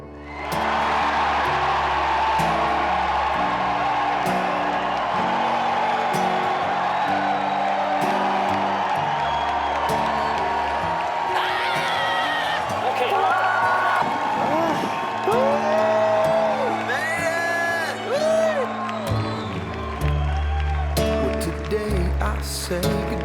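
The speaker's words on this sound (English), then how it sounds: "we're gonna have a moment of exuberant, screaming, frenzied screaming and clapping" A live audience erupts in sustained, frenzied screaming, whooping and clapping, a dense and loud wall of crowd noise that runs unbroken, with shrill voices rising above it.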